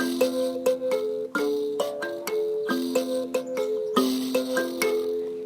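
Bright plucked metal tines of an mbira ring out in a repeating pattern of overlapping notes, with a faint buzzing rattle on each pluck, close and steady.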